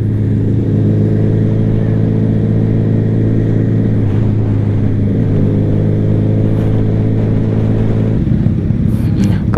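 A two-cylinder Honda Spacy motorcycle engine drones continuously and loud while riding, holding a steady pitch before shifting briefly near the end.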